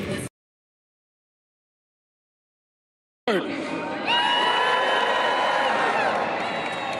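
Crowd at Harris campaign headquarters on 2024 U.S. election night cheering and shouting, loud and sustained after a brief burst and about three seconds of silence, with whoops and high voices rising above the roar.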